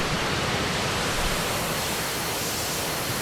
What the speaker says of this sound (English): That was a full afterburner takeoff.